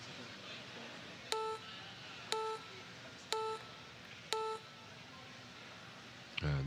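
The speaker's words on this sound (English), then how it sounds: "the buzzer going down in the background could have affected him a little bit" Four evenly spaced electronic beeps sound in the background of a pool match hall, each short and tonal about a second apart, over quiet room tone.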